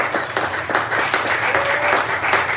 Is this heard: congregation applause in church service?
yes